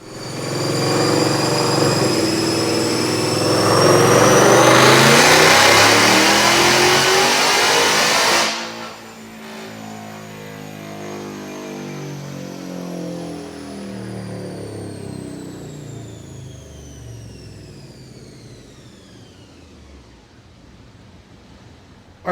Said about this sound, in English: But hey, check out this dyno pull.